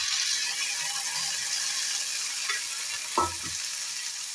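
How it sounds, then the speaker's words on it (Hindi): Green chili garlic paste and romas beans fry in a pan with a steady close hiss of sizzling, and one short scrape of a spatula stirring near the end. "और अच्छे से इसको लगातार भूनेंगे।"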